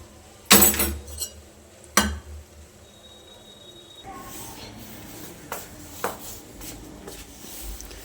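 A lid placed over a pot of freshly cooked vegetable curry in a home kitchen: a sharp metallic clink and a second knock of lid against pot, then quieter handling and faint room noise.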